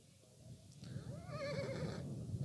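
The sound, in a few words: horse neighing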